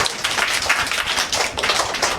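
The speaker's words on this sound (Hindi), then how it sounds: "ताली बजाओ" A group clapping hands in a steady, brisk rhythm for a couple of seconds, close and fairly loud, after a young girl recites a children's poem.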